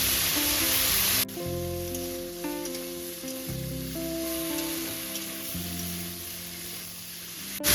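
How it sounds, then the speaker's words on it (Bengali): Taro stolons frying in oil over a medium flame: a continuous, loud, even sizzle that drops slightly after a second, with low tonal hum and musical tones running underneath throughout. "তেলের উপর কচুরলতি দিয়ে এখানে তিন মিনিট মতো খুব ভালো করে মিডিয়াম ফ্লেমে এপিট ওপিট করে ভেজে নেব"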